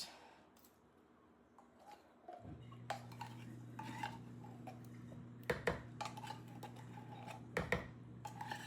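Sweetened condensed milk being stirred into bread pudding batter in a bowl, giving soft scraping and clinking of a utensil against the bowl over a steady low hum, with a few sharper knocks toward the end.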